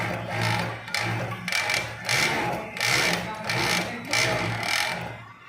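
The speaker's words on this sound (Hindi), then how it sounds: "ये हमारा जो है 5 थ्रेड का मशीन है। ये वर्ड लक प्लस सिलाई दोनों करता है।" A 5-thread overlock sewing machine stitches a pocket on a lower garment, whirring close and loud in repeated runs with brief slowdowns between them.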